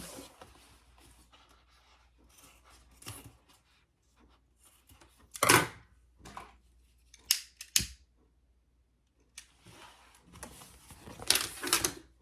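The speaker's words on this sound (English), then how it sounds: "I'm going to just cut off my excess zipper tape." Scissors snipping through excess zipper tape, a few crisp separate cuts with short gaps between them and faint rustling around them, close and clear, with no talk.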